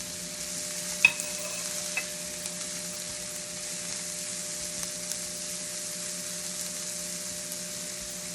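Mushrooms, onions and garlic frying on medium-high heat for chicken Marsala, a steady, moderate sizzle with a few faint clicks and taps from the pan, with no one talking.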